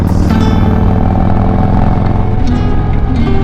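A Harley touring motorcycle rumbles loudly and steadily while riding, its engine drone constant and close throughout, with wind noise over it and no voices.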